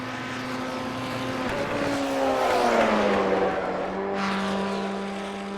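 Formula 1600 race car engine droning around Silverstone in a racing game, a sustained buzzing tone that shifts pitch as the car accelerates and lifts, close and loud with a brief hiss near the end.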